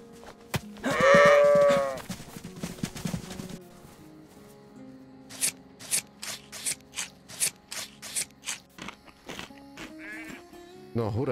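Sheep in the DayZ video game give one loud, close bleat near the start. A run of regular soft thuds and clicks follows, like quick footsteps, over a quiet background.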